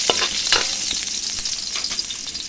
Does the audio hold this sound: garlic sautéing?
yes